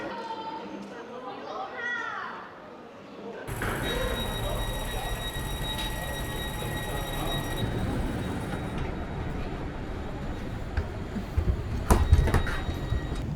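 Train ride from Schaffhausen to Zurich main station: a steady rumble of the moving carriage with a faint tonal hum and occasional clunks, preceded by a brief quieter stretch with a voice.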